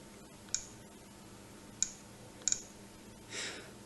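Keypad presses on a Trimble M3 total station while entering a target height: a few sharp, isolated clicks spaced unevenly, with a quick double tap near the end, quiet and close against a faint background.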